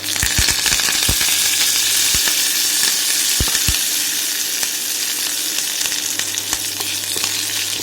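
Mustard seeds and curry leaves sizzle in hot oil, a loud constant hiss with sharp pops and crackles that cluster at the start and recur sporadically, no voices.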